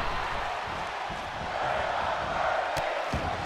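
Crowd noise from a pro wrestling triple threat match fills the arena, a steady broadband roar of cheering with scattered shouts and a couple of sharp slaps near the end, holding constant throughout.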